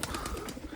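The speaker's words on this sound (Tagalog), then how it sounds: "papakawala na naman tayo ng mga ibon" Pigeons are let out of a backyard loft, soft cooing and fluttering bird sounds under a steady outdoor background hiss, faint and brief.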